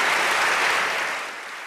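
Applause from an audience honoring physicist Peter Higgs, a dense steady wash of many hands clapping together that holds loud and then tapers slightly toward the end.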